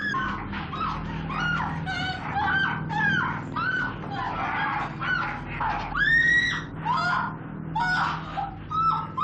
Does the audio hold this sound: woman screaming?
yes